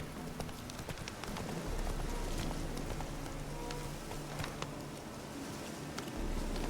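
Hoofbeats of the horse Roach galloping in the video game The Witcher 3, rapid clip-clop beats under a steady rain-like hiss of background game sound.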